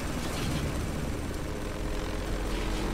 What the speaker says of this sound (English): Take out the choppers.